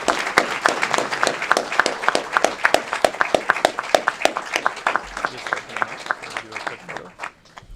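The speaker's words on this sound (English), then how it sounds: "Let's give them a big round of applause." A crowd applauds steadily with many sharp, distinct claps, loud and close, tapering off toward the end.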